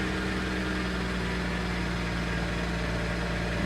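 A 2017 BMW M240i idles just after a cold start, giving a steady, close, humming drone with a faint mechanical rattle running evenly underneath.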